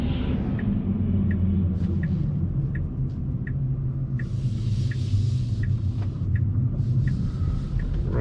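A Tesla running Full Self-Driving 10.8 rolls along a rural gravel road, a steady heavy low rumble of tires on loose stone with bursts of crunchy hiss, plus a soft regular ticking throughout and no voices.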